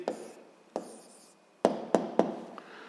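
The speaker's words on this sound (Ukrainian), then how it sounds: "Записуємо відповідь тоді." Pen strokes of an answer being written for a seventh-grade physics exercise on cube volumes, heard as several short scratchy bursts with sharp taps, fairly close and alone without speech.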